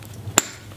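A single sharp hammerstone strike on tough rock during flintknapping of a primitive hide scraper, one short crack that dies out quickly, close and alone in a quiet setting.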